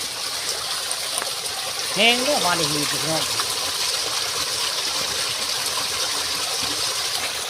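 Water pours steadily out of a well in a continuous, rushing hiss that fills the whole stretch, while someone speaks briefly over it.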